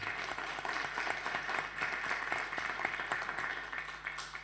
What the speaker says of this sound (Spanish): también un aplauso para ellos